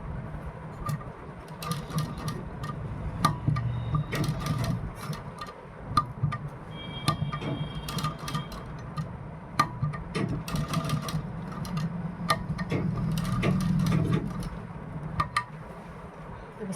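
A sewing machine stitches the neckline of a kurti onto buckram interlining, running in bursts of rapid mechanical whirring with brief stops and clicks, close and steady, with no voices.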